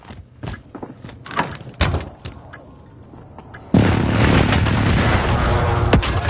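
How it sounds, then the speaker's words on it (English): Precision airstrike explosions in Call of Duty: scattered booms and impacts give way to a loud, sustained roaring blast wash that fills the second half. "Enemy precision airstrike."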